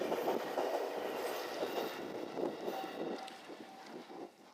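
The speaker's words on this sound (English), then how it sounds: "That train that just passed is a local line, a neighborhood line, so to speak." A local line train rolls past through the Tsurumi factory district, a continuous rumble and rattle of railcars with faint wheel squeal. It stays close and steady and then begins to fade at the end.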